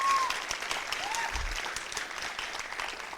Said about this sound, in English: Can we get another round of applause for that one?